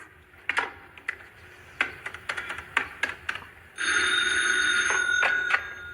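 An old telephone bell rings loudly and continuously after a series of sharp clicks and taps, heard alone at close range.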